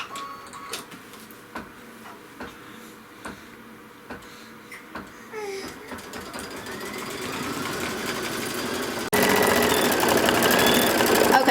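A sewing machine quilting three layered fabric pieces for a Kimberbell mystery quilt, running in a steady mechanical whir with rhythmic ticking clicks that grows louder and denser toward the end.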